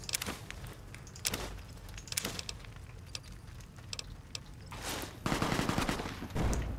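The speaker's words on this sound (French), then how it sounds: "Encore des coups de feu." Several bursts of gunfire in Fallout: New Vegas crack out, sharp reports scattered across the stretch with a heavier rapid volley near the end.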